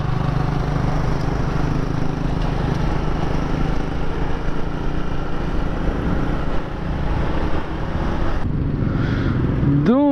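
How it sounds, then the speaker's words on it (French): A Honda CB125R motorcycle engine runs steadily and loudly close by, idling with a continuous rumbling drone. "Un putain de bruit en moto."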